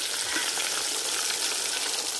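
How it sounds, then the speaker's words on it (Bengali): Pieces of fresh katla fish sizzle steadily in hot oil in a pan, a close, even hiss with no talking. "মাছের এক পিঠ ভাজা হয়ে গেছে, মানে আর এক পিঠ উল্টাই দেন।"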